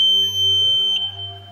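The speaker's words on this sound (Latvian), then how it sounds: "Tiklīdz zaglis centīsies pārkniept drošības trosi, signalizācija iedarbosies un piesaistīs apkārtējo uzmanību." A bicycle anti-theft alarm built into a security cable blares a loud, steady electronic tone with a high piercing pitch, wavering slightly before it trails off.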